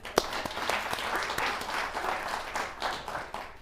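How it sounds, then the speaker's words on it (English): A podcast audience gives a round of applause for guest Tracci Johnson, a steady wash of clapping at moderate level lasting a few seconds, no speech over it. "Big round of applause for Tracci Johnson."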